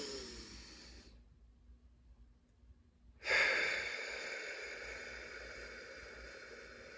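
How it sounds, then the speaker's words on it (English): A person deliberately inhales and exhales audibly as a demonstration, a breathy rush followed by near silence and then a louder sighing exhale of airy noise, close to the microphone. "So if I'm inhaling and exhaling like this"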